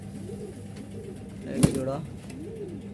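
Jalali pigeons coo softly in a loft in a low, rounded, repeating pattern, with a short sharp sound midway and a voice speaking briefly over them.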